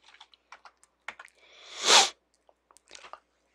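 Typing on a computer keyboard at a Solaris console: scattered light key clicks in short bursts, with one longer, louder rushing noise in the middle, close and fairly quiet, with no talking.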